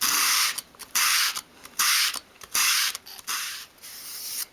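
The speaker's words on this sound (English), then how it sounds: "hold it at a 45-degree angle on your sandpaper and then just sweep it towards you, keeping it at that angle" Edge of a small wooden piece for a 1/12 scale dolls house bookcase swept by hand across sandpaper at a 45-degree angle: repeated close, rasping strokes of varying length with brief gaps, no voices.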